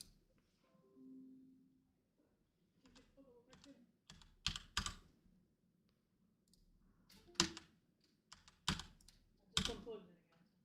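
Keys clack in quick, uneven bursts on a computer keyboard, with a few sharper louder strokes, close and quiet, while a voice murmurs faintly at the start.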